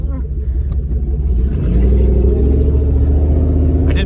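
A Jeep crawls over off-road obstacles on a single working front brake with no e-brake, its engine a low, close rumble that swells and holds steady.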